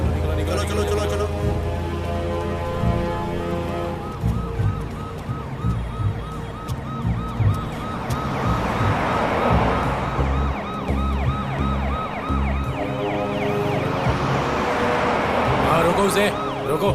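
An ambulance siren wails in repeated rising and falling sweeps, loud and close, under traffic noise and occasional voices.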